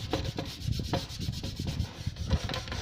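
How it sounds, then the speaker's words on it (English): A red Scotch-Brite pad scuffs a plastic Toyota Celica body part before primer, giving a steady, close, rhythmic rubbing and scrubbing with short repeated strokes and no talking. "The idea of the Scotch-Brite is to rough up the surface"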